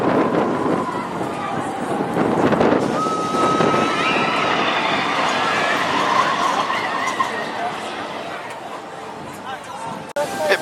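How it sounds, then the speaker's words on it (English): Blustery wind buffets the microphone on Main Street at Disneyland Paris, a constant rumbling roar with faint background tones and crowd sounds beneath it. "Blustery on Main Street"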